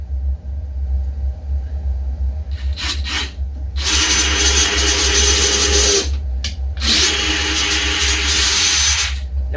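A DeWalt power tool whirs loud and close, then bursts into two sustained grinding, rubbing runs as torque is applied, over a low steady rumble. No one speaks.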